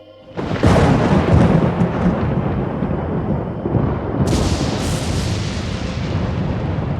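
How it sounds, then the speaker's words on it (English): Lightning crackles and strikes as a sound effect: a sudden loud, booming rumble that swells within the first half second, rolls on steadily, then gains a harsher crackling edge partway through, with no talk over it. "Lightning crackles, striking down towards the lightning rods that sit astride the anvil, the keep, the center of Wolfguard."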